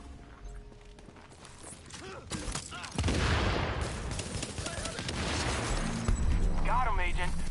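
Bursts of gunfire in The Division, crackling volleys and mechanical clatter that build up and grow denser midway, with someone talking over the shooting.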